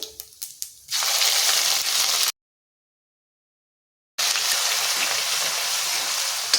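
Ginger, garlic and chili paste dropped into hot oil with cumin and asafoetida, a loud hissing sizzle that bursts in after a few small taps, cuts out briefly, then resumes steadily.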